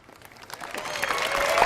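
An audience applauds at the E3 2017 Microsoft press conference, clapping that starts sparse and swells steadily louder, with crowd noise and brief background speech mixed in.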